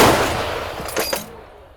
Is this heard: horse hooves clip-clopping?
no